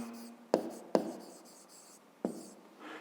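Pen writing out a maths solution on paper, soft scratchy strokes broken by three sharp taps, close and quiet.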